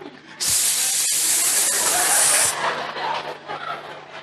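Steam hissing from a pressure cooker, a loud, steady broadband rush that holds for about two seconds, then gives way to quieter background noise.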